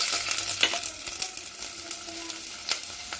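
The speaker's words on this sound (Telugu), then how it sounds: "ఇప్పుడు తాలింపుకి ఇదిగో వెల్లుల్లి" Garlic tempering in hot oil for mashed dal, a close, steady sizzle with quick crackles and stirring scrapes, alone with no talk.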